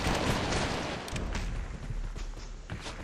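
A single gunshot snaps through a video game scene, fired to clip the burning wick off a stick of dynamite, with a dense rumble of blasts and shooting filling the background.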